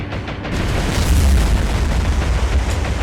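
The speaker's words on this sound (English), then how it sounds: "Bombs are away on this section." Bombs detonate on a destroyer in the naval war game War on the Sea, a loud, deep boom with a heavy low rumble that rolls on for several seconds.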